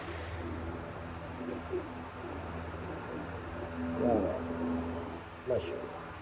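A Teddy pigeon gives two short, throaty coos, the first longer and the second brief, over a steady background hum with faint murmuring.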